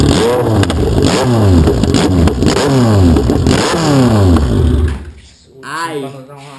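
Kawasaki Z750 motorcycle with a newly fitted exhaust on a lift, its engine loud and close, rising and falling through repeated rev sweeps before dropping briefly and picking up again near the end.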